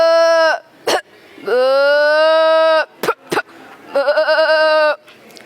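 A schoolboy vocally imitates a billy goat, giving three long, loud, strained bleats. Quick breaths and throat clicks sit between the bleats, and the last bleat trembles more than the others.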